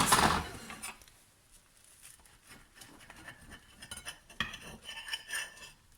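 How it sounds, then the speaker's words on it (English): The lid of an Actifry air fryer is set in place with a sharp metallic clatter right at the start, followed by quieter light clinks and handling noises. "Put my lid on."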